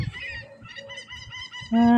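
Geese honking nearby in a village near Moscow, a run of nasal calls that ends in a loud, sustained honk.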